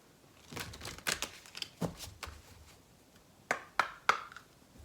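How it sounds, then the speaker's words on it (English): Tarot-style dream cards being shuffled by hand, a run of crisp papery riffles and snaps, some louder flicks near the end, close and alone with no talking. "So let me just shuffle."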